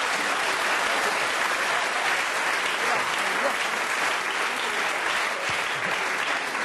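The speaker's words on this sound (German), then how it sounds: "Sie können schon klatschen." Steady, dense applause fills a comedy show hall, an audience clapping evenly and continuously without a break, moderately loud and close.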